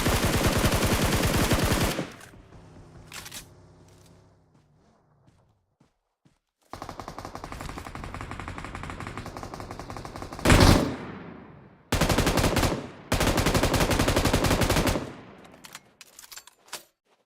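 PUBG Mobile gunfire comes in bursts of rapid automatic fire at the start and again in the middle and end, with a single heavy blast and scattered shots between quiet stretches.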